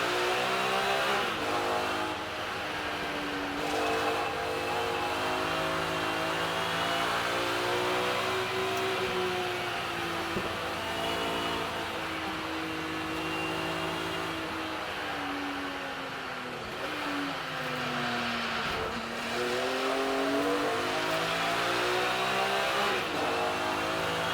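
BMW race car in the Kumho BMW Championship at Snetterton, its engine droning loud and close as it climbs and drops through the gears, revving steadily with brief lifts for corners, without speech.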